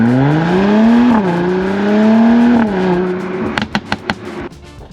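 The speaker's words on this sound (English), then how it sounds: "What's more impressive is probably the exhaust that's going off and burbling like crazy. It sounds like a popcorn machine back there." Tuned 500 hp Mercedes-Benz C43 AMG revving hard under load, then dropping off as the driver downshifts and lifts, setting off a quick run of sharp, loud exhaust pops and crackles near the end.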